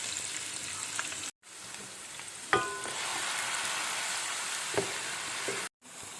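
Medium-sized chopped onions sizzle in a pan while browning for matar keema karahi, a soft, steady frying hiss with a couple of brief clicks, fairly quiet and close, with no voices.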